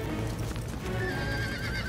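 Cartoon horses whinny and neigh loudly over a steady clip-clop of hooves, a continuous close stable-yard commotion during a fire alarm scene.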